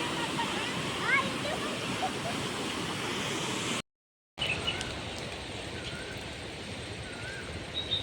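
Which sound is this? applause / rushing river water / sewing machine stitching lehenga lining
rushing river water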